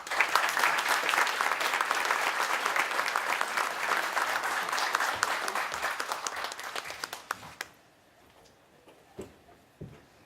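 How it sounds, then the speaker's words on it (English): A seated audience at a police quarterly awards ceremony claps in loud, sustained applause for about seven seconds, then it fades out to scattered last claps. "Please hold your applause till I'm done reading."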